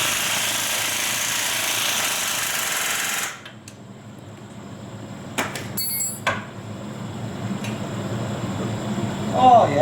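Impact-style power tool tightening a wheel bearing bolt on a 2019 Polaris RZR XP Turbo, a loud steady buzzing burst for about three seconds, then stops, followed by a few sharp clanks and faint shop noise.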